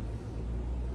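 Traffic outside drifting in through an open window of a condo, a steady low rumble of passing vehicles heard faintly and continuously with no speech.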